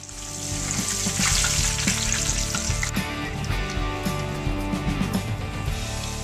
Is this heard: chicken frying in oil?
yes